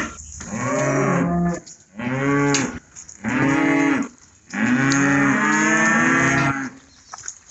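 Cattle mooing inside a barn during calving season, a run of four long, loud bellowing moos close by with short pauses between them, and no talking.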